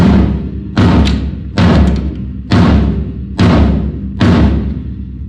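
A tom drum is struck six times at an even pace while being tuned up with a tuning key, each loud, close hit giving a deep thud that rings out before the next.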